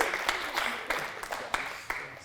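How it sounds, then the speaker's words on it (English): Audience applause for a guest called on stage at a business talk: thin, scattered clapping with a few sharper claps standing out, fading somewhat toward the end. "Can we have a round of applause, please?"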